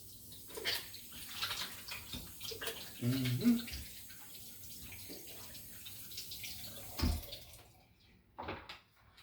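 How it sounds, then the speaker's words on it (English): Hands being rinsed under a running tap while doing hair, a splashing, gurgling water stream rising and falling with a few louder bursts, close by, then cutting off near the end. "I'll wash off my hand a little bit"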